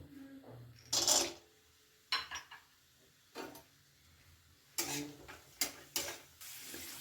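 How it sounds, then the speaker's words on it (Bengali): Peanuts frying in hot mustard oil in a wok, heard as a few short, fairly quiet bursts of sizzle and stirring clatter separated by near-silent pauses. "বাদামগুলো ভাজা হয়ে গেছে"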